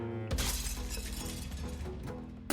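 Window glass shatters in one sudden, loud crash followed by a dense spray of breaking shards tapering off over about two seconds, heard alone without any voice.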